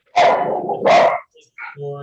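A dog gives two loud, close barks in quick succession during an online council meeting, followed by a softer yip and a brief whine-like sound.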